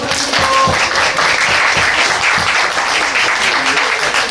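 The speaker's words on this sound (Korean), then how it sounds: "승자 선수께 박수 한번 부탁드리겠습니다." A crowd at an amateur bantamweight fight event applauds the winning fighter with loud, steady clapping throughout, while voices and cheers rise underneath.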